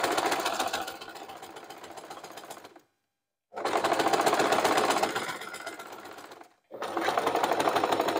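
A sewing machine stitching a shoulder bag runs in three close, loud bursts of rapid mechanical chatter, separated by brief silent pauses, with no talk.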